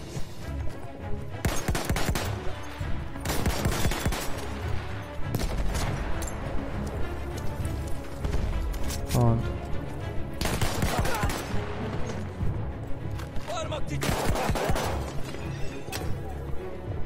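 Battlefield 1 gunfire, including an SMG, crackles in rapid bursts and sharp single cracks throughout, loud and dense with brief gaps between volleys.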